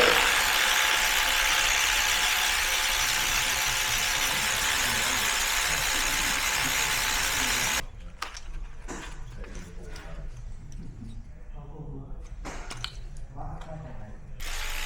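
A hand ratchet clicks away at 8mm bolts holding the fuel rail on a VW 2.0 EcoBlue engine, first under a steady broadband hiss, then in distinct close bursts of clicks.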